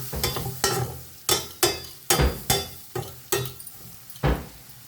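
Chicken masala with chilli powder cooks in a pan, with a spoon scraping and stirring in sharp, regular strokes about once a second over a low sizzle, close and clear.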